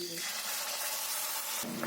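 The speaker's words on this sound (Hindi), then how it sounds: "हल्का सा इन्हें तड़का लेते हैं।" Whole spices such as cloves, black peppercorns, caraway and cinnamon sizzle in hot oil in a kadai, a close, steady crackling hiss that thins out briefly near the end.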